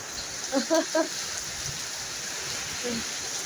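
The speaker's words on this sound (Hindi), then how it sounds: "ये देखो बारिश शुरू हो गई है" Rain falls in a steady, even hiss throughout during strong winds, with a few short bursts of speech over it.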